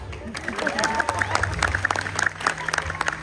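A crowd at a Polynesian dance show in Hawaii claps, a scattered patter of hands over low background sound, with a voice talking over it.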